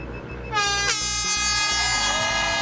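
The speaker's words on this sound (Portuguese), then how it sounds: "Vai tocar a buzina." Starting air horn at the London Marathon start, a loud, sustained blast that cuts in sharply and holds steadily over faint background noise.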